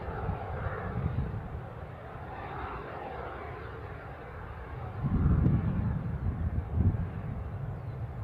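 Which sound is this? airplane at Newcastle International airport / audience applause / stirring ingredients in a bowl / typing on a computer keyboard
airplane at Newcastle International airport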